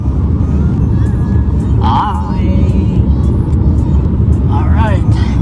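Steady road and engine rumble from inside a car travelling toward Adelaide in South Australia, continuous and fairly loud, with a voice briefly talking over it.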